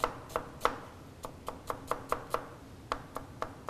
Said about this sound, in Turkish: İnce ince doğradık.